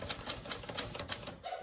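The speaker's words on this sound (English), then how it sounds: "I'm actually going to type the word typewriter." An old manual typewriter clacks out a short burst of about eight sharp keystrokes in an uneven rhythm, close and fairly quiet, with no voices.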